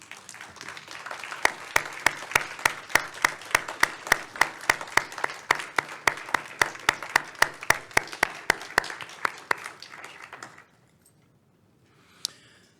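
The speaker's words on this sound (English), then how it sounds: "we can give you a round of applause" A room of guests at a scholarship luncheon applauds the standing board members, a sparse, crisp round of individual claps that holds steady for about ten seconds and then stops abruptly, leaving near silence.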